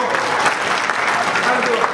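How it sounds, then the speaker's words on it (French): An audience at a teachers' union excellence-day ceremony in Kébémer, Senegal, breaks into dense, steady applause, loud and close throughout the short burst. "ça mérite les applaudissements"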